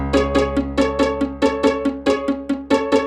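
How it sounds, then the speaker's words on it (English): Bright plucked piano notes repeat in a steady bouncing pattern over a deep sustained bass in a hip-hop beat, loud and clear with no voices. "Now let's get a piano over that."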